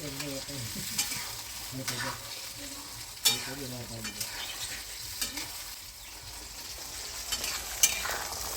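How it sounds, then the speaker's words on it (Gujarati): Green peas frying in hot oil in a pan for a homemade namkeen snack, with a steady close sizzle and repeated scraping stir strokes, no voices. "જો આપણે વટાણા સરસ મજાના તળાય છે"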